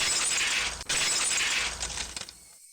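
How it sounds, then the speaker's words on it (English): Glass shatters in the video game Higurashi When They Cry, a loud, bright crash with scattered tinkling shards spreading over about two seconds before stopping abruptly into silence, with no talk. "The unpleasant piercing sound of shattered glass"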